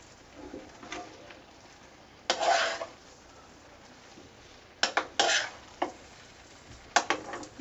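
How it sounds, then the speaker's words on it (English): A yam stir fry being tossed and stirred in a pan, with short bursts of scraping and clatter separated by quiet gaps over a faint low hiss, close by and without speech. "So make sure you mixed everything in"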